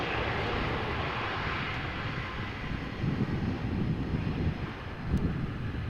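An airplane landing at Amsterdam Schiphol Airport: a continuous broadband engine roar mixed with gusty wind noise, holding steady and swelling slightly toward the end, heard at a distance.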